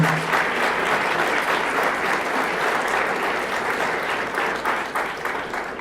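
Audience applause fills a banquet room, dense and steady clapping from many people heard close and continuous throughout, with no talk over it.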